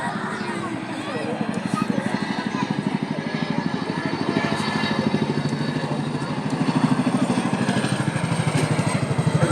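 Twin engines of a Chinook helicopter climbing at an air show drone steadily, with a rapid rotor beat pulsing throughout, heard from a distance in an open outdoor setting.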